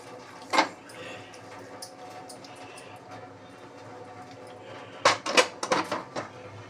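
A spoon stirring fish pulusu curry in a cooking pot, a couple of brief metallic scrapes and clinks, one early and a cluster near the end, against quiet kitchen background.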